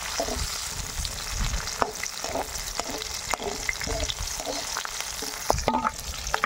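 Vegetables such as capsicum crackle and fry in a pan for veg Manchurian, a steady close sizzle broken by sharp pops and occasional scrapes of stirring, with no voices.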